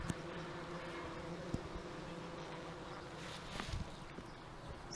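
A dense, steady hum of many honey bees buzzing close by at a hive, continuous and fairly soft, with a few brief louder passes.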